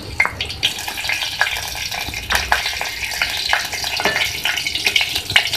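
Cloves and green cardamom frying in five tablespoons of ghee for halwa, a steady crackling sizzle with occasional sharper pops and light stirring scrapes, close and continuous.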